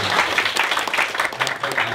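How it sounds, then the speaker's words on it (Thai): Audience applause at a Thai event, a steady wash of many hands clapping close and loud for two seconds, with faint voices blended into the noise. "ขอเสียงปรบมืออีกสักที"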